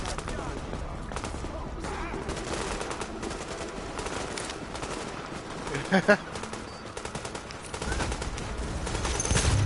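Rapid automatic gunfire from the player's weapon in The Division, a dense continuous stream of shots with a brief louder burst of impacts midway, set against game ambience.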